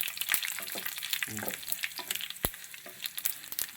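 Halved red chilies crackle and sizzle in hot oil for a beetroot pachadi, with a few sharp spoon scrapes and pops against the pan as they're stirred, close and busy throughout.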